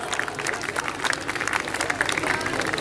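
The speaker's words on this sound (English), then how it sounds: "Round of applause." Audience at a school annual function breaks into continuous dense applause, many hands clapping at once in a steady wash of sound.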